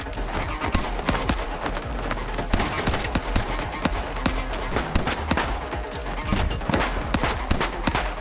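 Gunfire from a film's final gunfight scene, dense sharp cracks and bursts of shots firing continuously in rapid irregular succession over a busy, loud background mix without clear talk.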